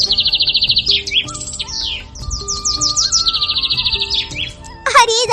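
Bright, rapid bird chirps and trilling tweets repeat throughout, fairly close and loud, with several quick sweeping calls and no talking.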